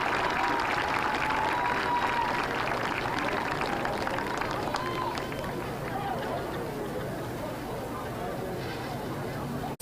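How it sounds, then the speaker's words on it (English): At a high school football game between Guthrie and Lawton Eisenhower, a crowd applauds the 2023 senior football players and cheerleaders with steady, continuous clapping and cheering, crowd chatter mixed in. "How about a round of applause for our senior"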